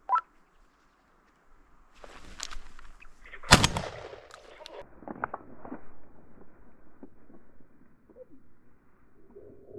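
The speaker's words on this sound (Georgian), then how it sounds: "შვენიერი გასროლა." A single sharp, loud hunting gunshot cracks out in open air during a winter bird hunt for duck, wood pigeon and woodcock, followed by rustling and movement close by.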